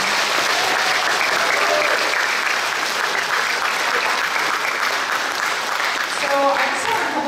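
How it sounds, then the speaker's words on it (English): Sustained, loud applause from an audience honoring performers at the close of a show, a dense wash of clapping that holds steady throughout with faint voices mixed in. "Could we please get one more round of applause for all of the performers?"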